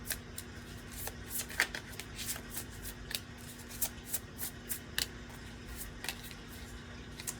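A deck of tarot cards is shuffled by hand nearby, with repeated soft riffling and flicking bursts in an uneven rhythm and no talking.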